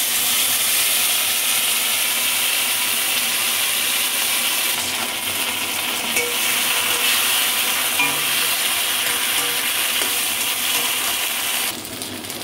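Ground paste of ginger and green chillies frying with potatoes in a pan, a loud continuous sizzle and hiss with occasional scraping of the spatula, steady throughout and no voices.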